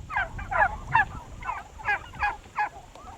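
A flock of turkeys on a regenerative farm gobbles in repeated bursts of clucking, honking calls, about seven clear outbursts at a steady rhythm, fairly near, with no talking.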